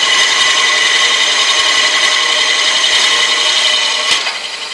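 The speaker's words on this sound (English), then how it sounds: "I'll bring it over to the sanding lathe and I'll start with a coarse sandpaper" Coarse sandpaper rubs against a wooden workpiece spinning on a sanding lathe, a steady close, loud abrasive rasp that holds evenly throughout, easing slightly near the end.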